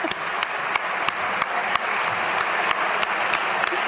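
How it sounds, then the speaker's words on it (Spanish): An audience at a football awards gala applauds to welcome Diego Simeone, a dense, steady wash of clapping from a large crowd that holds at the same level throughout, with sharper individual claps standing out. "Con ustedes, fuerte el aplauso"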